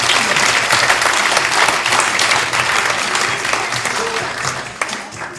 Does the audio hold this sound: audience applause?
yes